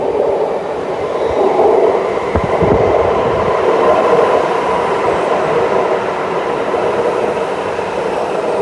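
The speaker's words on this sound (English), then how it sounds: "Oh my God, here comes the train." A Sydney Metro train pulls into an underground station, a loud, steady rolling rumble with rail clatter and a brief squeal, sustained close by throughout.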